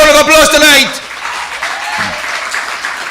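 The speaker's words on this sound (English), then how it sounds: "Give her a round of applause tonight" Rally crowd applauding Kamla Persad-Bissessar at a UNC meeting in Tunapuna, a softer spread of clapping that rises as a loud shouting voice stops and carries on at a moderate level for a couple of seconds.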